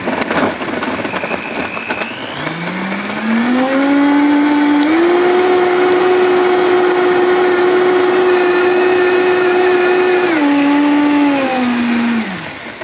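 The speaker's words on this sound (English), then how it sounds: "And then we're going to turn the blender on." A blender motor spins up, whirs at a loud steady high pitch for several seconds, briefly labors as it chops firm strawberries, then winds down.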